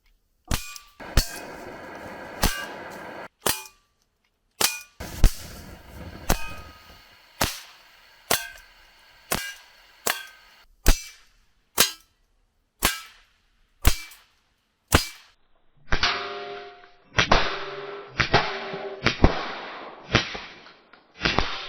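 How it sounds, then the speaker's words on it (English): Umarex SPA Expert 4.5 mm air pistol firing exploding Kvintor Phantom pellets: about twenty sharp, loud cracks at a steady pace, each sharp snap dying away quickly, with the later shots sounding slightly duller. "now let's have some fun with these exploding Kvintor Phantom pellets"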